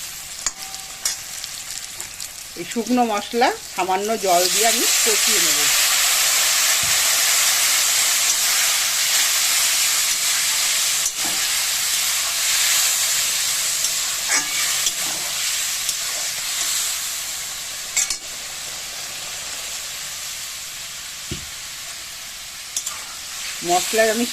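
Spices for a fish curry, including Kashmiri chili powder, hit hot oil and break into a loud, sustained sizzle and hiss that continues steadily after a short stretch of talk at the start.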